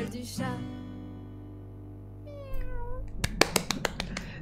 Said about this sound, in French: Et le chat aussi dit que c'est vraiment super cool et trop bien.